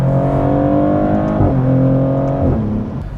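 A 2024 Maserati GranTurismo's 3-liter V6 heard from the cabin while driving, a steady loud engine drone that climbs in pitch through the gears with brief dips at the shifts.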